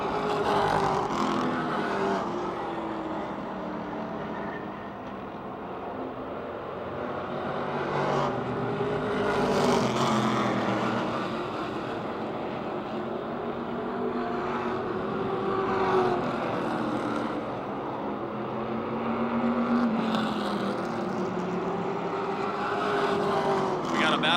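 Race cars circle Motordrome Speedway, engine drone rising and falling steadily as the field passes, with a race announcer talking over the noise throughout.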